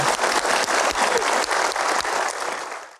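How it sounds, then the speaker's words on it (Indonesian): A studio audience applauds for Pak Doni at a Kick Andy television talk show taping, a dense, loud, steady burst of clapping that lasts about three seconds and then stops abruptly. "kita berikan aplaus untuk Pak Doni"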